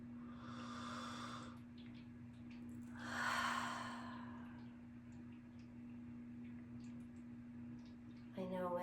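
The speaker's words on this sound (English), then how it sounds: "let's take a deep, deep breath of that forgiveness" Two slow, deep breaths of air, the first a long inhale and the second a fuller, louder breath a moment later, soft and close over a steady low hum, with a faint voice-like sound near the end.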